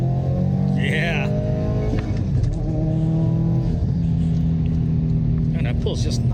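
A 2015-2019 Subaru WRX STI with a built block pulls under acceleration, its engine a steady, loud rumble heard from inside the cabin throughout, with a voice talking over it.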